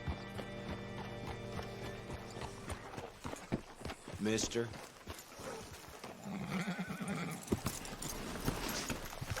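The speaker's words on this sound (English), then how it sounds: "Hitch your horse up here." Horse hooves clip-clop and a horse whinnies in the Red Dead Redemption 2 video game, set in a western town, with steady hoofbeats mixed with game music and someone speaking nearby.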